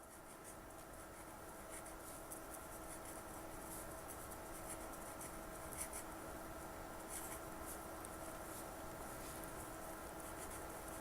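Pencil or pen writing by hand on paper while copying a sentence, a faint, steady scratching with soft strokes continuing throughout over a quiet room hum, with no talking.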